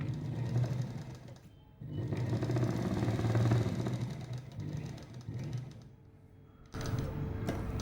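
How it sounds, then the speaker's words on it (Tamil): A sewing machine stitches a 42-inch chudidar top, running in steady whirring bursts with brief pauses between runs, close and fairly loud, with no voices. "நான் இப்போ உங்களுக்கு தைச்சு காமிக்கிறேன்"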